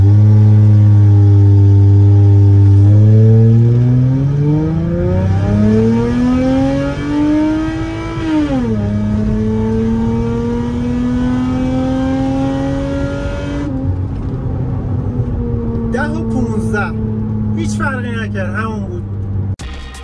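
Car accelerating hard in manual mode with its aftermarket exhaust valve kit open, a loud close engine note rising steadily through the revs before easing off, with brief crackles near the end.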